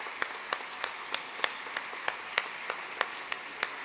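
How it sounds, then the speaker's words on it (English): Sparse, rhythmic clapping of a few individual hands, evenly spaced at a moderate distance, at a business hall of fame gala honouring scholarship winners and sponsors. "Big round of applause for our scholarship winners and our sponsors."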